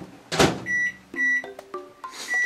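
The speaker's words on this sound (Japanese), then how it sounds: "電子レンジ。" A microwave oven gives a thump followed by a series of short electronic beeps and tones, close and fairly loud, with brief pauses between them.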